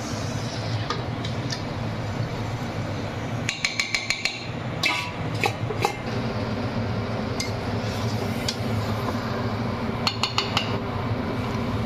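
Chicken pieces are tipped into a pan of spice paste for a Bengali ghee chicken roast, bringing scattered clinks and clatters of utensils and cookware, with a quick burst of rattling taps near the middle, over a steady low kitchen hum.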